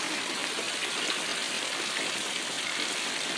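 Rainwater pouring into a house during heavy rain, a steady broadband rushing and splashing wash that stays constant and close throughout, with no pauses or distinct events.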